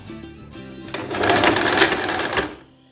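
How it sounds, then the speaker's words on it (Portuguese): A sewing machine runs a zigzag stitch on a simple homemade dress in one short, close burst that builds, holds for under two seconds and then stops. "Tô costurando no ponto de zigue-zague."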